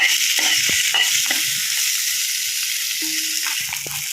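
Sesame seeds fry in generous hot oil for a spinach pachadi. A steady bright hiss of sizzling carries a few soft knocks and scrapes from stirring underneath. The sound is brief and close, with no talking.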